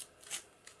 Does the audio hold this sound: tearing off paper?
yes